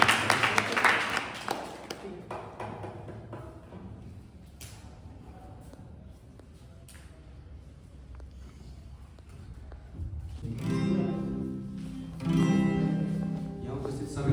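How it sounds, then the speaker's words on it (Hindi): An audience claps for a singer's welcome at a hostel singing competition, a burst of applause at the start that fades out, then louder clapping returns near the end over a speaking voice. "जोरदार तालियों से उनका स्वागत किया जाए।"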